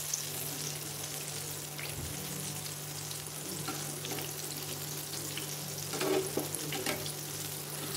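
Homemade KFC-style chicken frying in oil over a medium flame gives a steady, fairly quiet sizzle with a low hum underneath, and faint stirring noises near the end.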